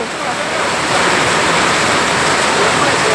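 Heavy rain pours steadily at a flooding Mahachai market, a loud, dense, unbroken hiss that swells slightly after the first second and holds at full strength, with no voices over it.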